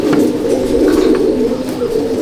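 Andhra pigeons cooing inside a loft, a loud close run of low throaty coos rolling continuously without pause, with no one talking.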